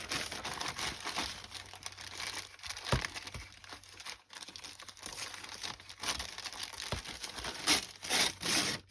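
An old paper bag crinkles and crackles close up in a continuous rustling, with sharper tearing and crunching bursts throughout.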